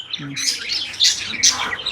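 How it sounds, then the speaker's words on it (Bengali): Racing pigeons at an outdoor animal and bird fair give short chirping calls, a few quick bright notes close by over a busy crowd murmur. "হ্যাঁ এটা রেসার কবুতর"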